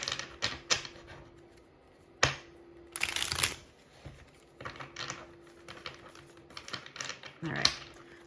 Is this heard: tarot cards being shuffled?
yes